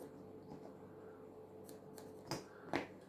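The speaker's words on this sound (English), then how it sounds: "I'm going to cut this end piece off" Scissors snip off the end piece of a cross beam for a Beetlejuice diorama bridge, two or three crisp, fairly faint cuts late in the clip over a steady low background hum.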